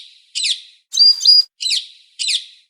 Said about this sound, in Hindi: वो जंगल में एक चिड़िया रहता था